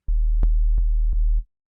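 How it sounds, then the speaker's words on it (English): Pure sine tones from three oscillators in the Vital synthesizer, played as a sustained low tone with a run of short pitched blips struck at a steady pace, clean and close, stopping abruptly. "a bunch of sine waves"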